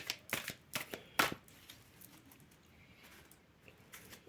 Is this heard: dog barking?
no